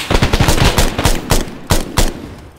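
Gunfire from the military shooter game Arma 3: a rapid series of loud, sharp shots in uneven bursts, with two heavier reports near the end, heard with no talking.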